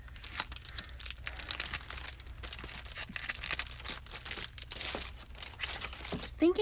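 Stamped paper being cut down by hand for a card craft gives close, faint crinkling and snipping with small rustles and crunches that continue steadily, with no voices.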